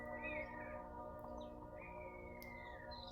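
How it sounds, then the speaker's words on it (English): A hawk gives two drawn-out, descending screeching calls, the second longer, over a steady low droning tone. "that sacred sound of Hawk, the messenger"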